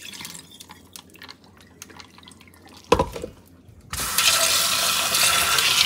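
Sago pearls being washed in water, soft splashing and dripping that swells into a loud continuous rush of running water, close by with no talk.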